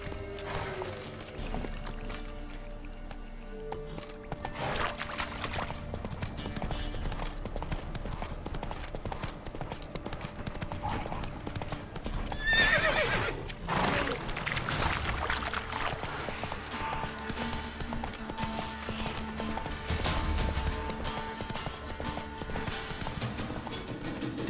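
Roach, the horse in The Witcher 3, trots with a steady clip-clop of hooves that runs throughout, with a brief neigh or whinny in the middle over a bed of in-game ambience and music.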